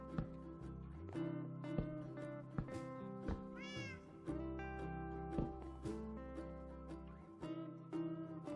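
A cat meows several times in a Minecraft game, short clear mews rising above an upbeat, busy background music track.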